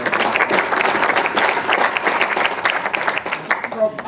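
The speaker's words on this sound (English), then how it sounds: "So let's give Professor Thomas a round of applause" An audience at a university awards ceremony claps for Professor Thomas, sustained dense applause from a crowd that carries on steadily throughout.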